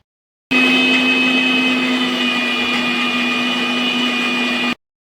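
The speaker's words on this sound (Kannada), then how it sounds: "ಈಗ ಮಿಕ್ಸರಿ ಹಾಕ್ಕೊಳ್ತೀನಿ ನೋಡ್ರಿ" A mixer grinder blends apples into juice, its motor starting abruptly and holding a loud, steady high whine for about four seconds before cutting off sharply, heard alone and close.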